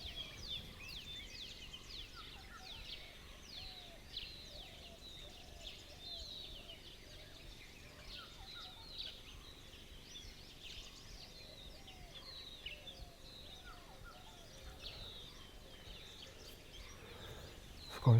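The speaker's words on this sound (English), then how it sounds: "the birds are becoming more and more active" Many birds chirp and warble at once in a busy sunrise chorus in Bandhavgarh National Park, India, steady throughout over a soft background hiss.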